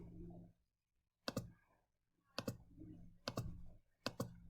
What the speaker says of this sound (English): I'm going to retype in my number 12 and then hit enter